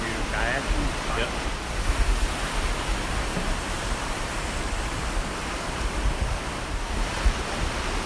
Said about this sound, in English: this is some river where they do kayaking